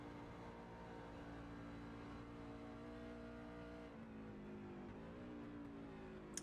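Outlaw Truck Series racing trucks at Dover roar through and off a corner, engines droning with rising pitch as revs climb, heard from a distance and fairly faint.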